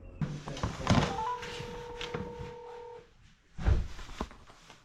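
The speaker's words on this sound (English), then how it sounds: "So now I'm calling him over and over and he won't answer." A phone call is dialed over and over, with tones and a steady two-tone ring held for a couple of seconds, mixed with thumps and handling noise in a shop.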